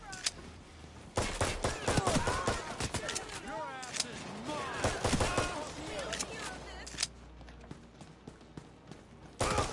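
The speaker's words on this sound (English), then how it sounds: "That's a shotgun." Shotgun blasts and gunfire during a police shootout in the heist video game Payday 3, loud sharp bursts repeating irregularly over a busy mix of game effects and a voice talking.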